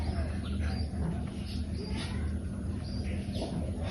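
Large pigeons coo softly in low, throaty murmurs, with a few faint chirps and a steady background hum running underneath.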